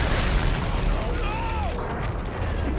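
Enemy firing in Call of Duty Infinite Warfare, a heavy rumbling barrage of booms and blasts under a dense, loud wash of noise, with a voice speaking over it.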